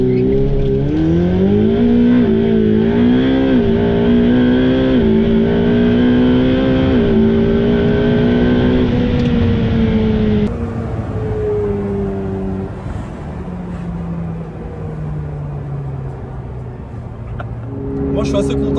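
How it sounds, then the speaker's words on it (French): A sports car engine screams close by, revving up through rising pitches in a hard launch-control start, then shifting and pulling on at a lower drone. "on va vous faire un launch control."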